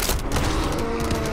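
Sustained automated turret gunfire in the co-op shooter game GTFO, a dense, loud, continuous rattling barrage filling the whole moment without pause, heard alone with no voices over it.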